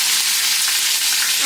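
Garlic paste and chillies hitting hot oil in a pan, a loud, dense, continuous close sizzle with no voices.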